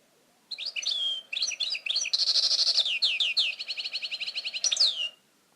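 A European goldfinch sings a bright, twittering song of quick chirps, trills and buzzy notes, close and clear against a quiet background.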